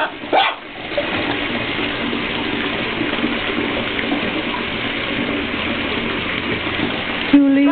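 Scarlet macaws bathe under running water, a steady, close splashing and pouring that continues with a few brief bumps and sharper sounds at the start and end.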